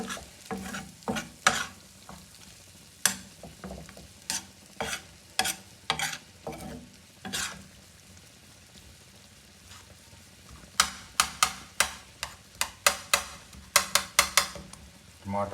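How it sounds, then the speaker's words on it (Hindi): Beef and tomatoes cook on a hot tawa, giving a low sizzle broken by many sharp scraping and clanking strokes of a spoon stirring and crushing, coming in quick bursts near the start and end. "ये देखिए टमाटर खुद ब खुद जो है वो गल रहे हैं और मिक्स हो रहे हैं। इसको मिक्स करेंगे अच्छी तरह।"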